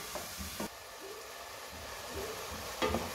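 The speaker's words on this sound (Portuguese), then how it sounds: "Deixar refogar a cebola junto com o alho" Onion and garlic sautéing in a pan: a soft, steady hiss of frying, with a couple of faint stirring scrapes near the start and end.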